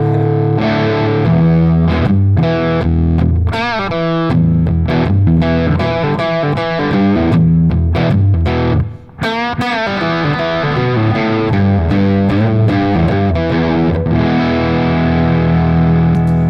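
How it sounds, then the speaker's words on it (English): Loud electric guitar through a REVV D40 Dynamis amp with a thick fuzz tone, chords and single notes played continuously with a brief gap midway. "Kind of like a fuzz tone"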